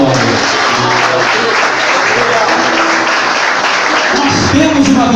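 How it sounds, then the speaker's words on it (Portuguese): A church congregation gives loud, sustained applause during a sermon, a dense wash of many hands clapping close by that carries on evenly throughout. "dê um forte aplauso para Jesus"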